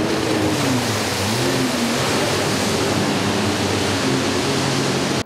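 A fast jet ski racing on the Elbe river in Pardubice, its engine a steady broadband roar with rising and falling pitch sweeps over wash and spray, loud and continuous throughout.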